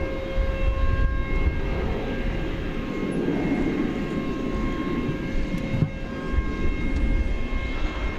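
A United Airbus A320 on final approach at DFW at night, a moderate, steady engine drone with faint tonal whines, heard from a distance and largely alone.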